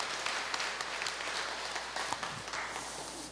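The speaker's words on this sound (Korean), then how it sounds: "하나님 앞에 영광의 박수 한번 올려드리겠습니다" Applause from a church congregation during a founding anniversary Sunday service, a steady dense wash of many hands clapping at moderate distance, sustained without a break and free of talk.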